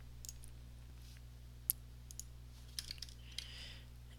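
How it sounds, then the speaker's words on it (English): A handful of faint, sharp computer mouse clicks, spaced irregularly, sound while working in Photoshop CS4 over a low steady hum in a quiet room. "You can make a selection by right-clicking,"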